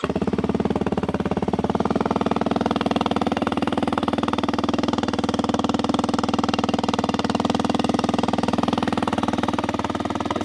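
2024 Kawasaki KLX 230R dirt bike engine running at a steady idle, a fast, even thrum heard close up and constant throughout, with no voices.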